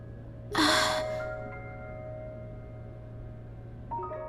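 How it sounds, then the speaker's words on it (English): A single sharp gasp or heavy intake of breath in a game set among abandoned ruins, loud and brief near the start, then fading into a steady low hum with quiet tonal game ambience. "I can hear you breathing, you know"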